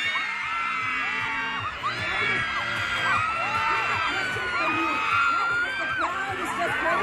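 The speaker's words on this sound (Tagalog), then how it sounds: "The crowd is just crazy." Large crowd at an Earth Hour celebration cheering, whooping and screaming steadily, a dense wash of high voices sustained throughout without letup.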